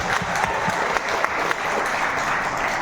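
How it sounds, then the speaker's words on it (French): Audience applause at a Moroccan film festival award ceremony in Meknes, a continuous dense patter of many hands clapping, fairly loud and even, without voices on top. "On peut l'applaudir s'il vous plaît."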